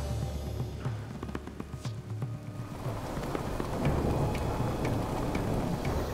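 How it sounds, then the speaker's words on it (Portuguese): Steady rain patters and hisses all around, with a low, soft rumble of distant thunder beneath it; no voices. "Tá frio, tá chovendo e eu tô vendo relâmpagos lá longe."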